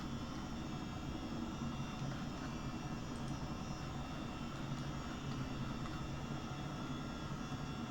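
A Chinook helicopter's engines drone in Microsoft Flight Simulator during a stormy flight, a steady, moderately quiet turbine roar and low rotor thrum with no voices over it.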